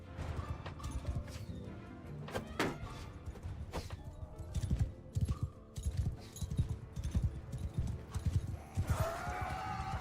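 Horses clip-clopping and galloping in a Linux video game battle, with irregular hoof beats amid clashing, crashing game noise and occasional whinnies, steady and fairly loud throughout.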